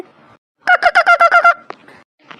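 Domestic chickens in a rural village yard give a burst of about six loud, rapid squawking clucks, close by and alone, with a few faint calls trailing after.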